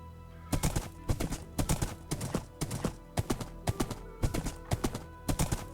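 Hooves of a summoned horse running in the video game Project Architect 2, a steady clip-clop gallop of quick doubled hoofbeats repeating evenly, crisp and close with no other sound.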